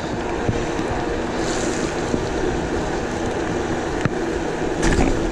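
Battery-powered vehicle driving through deep standing water on a rain-soaked road, with a steady rushing wash of spray and wind noise throughout and a few faint knocks.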